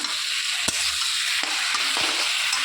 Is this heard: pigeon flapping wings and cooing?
no